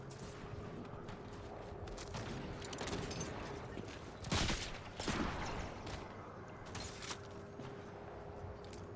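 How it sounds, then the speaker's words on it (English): Sporadic gunfire in a battle royale video game, a few sharp distant cracks and bangs scattered over a steady background of in-game ambience and mechanical noise. "I heard gunshots from that direction."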